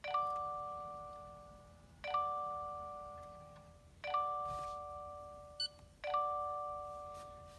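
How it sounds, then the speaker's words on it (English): A repeating electronic door chime from a Subaru Impreza, four identical dings about two seconds apart, each ringing out and fading before the next. "we'll have the annoying door chime."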